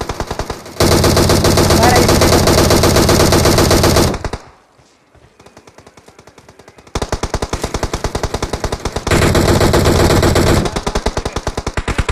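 Automatic gunfire from the battle royale game PUBG, with long sustained bursts of rapid shots broken by a short quieter stretch and then more bursts, loud and dense throughout.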